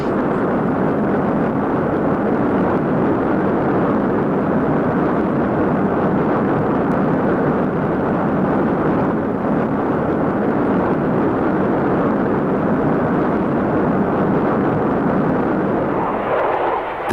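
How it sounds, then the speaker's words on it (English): Swedish fighter jet flying and losing control over Stockholm, a loud, steady roar of jet engine noise holding for the whole stretch with a slight shift near the end. "This Swedish fighter, losing control over Stockholm, was designed to be Europe's premier strike aircraft."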